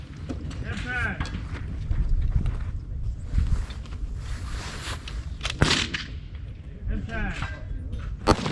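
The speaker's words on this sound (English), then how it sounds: "I come over here, take my last 3 shots." Rifle shots crack out at an outdoor precision rifle (PRS) match, several sharp reports spread across the stretch amid wind noise and people talking.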